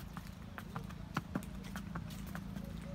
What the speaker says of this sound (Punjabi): ਉਵੇਂ ਉਵੇਂ ਘੋੜੀ ਤੁਰੀ ਜਾਂਦੀ ਹੈ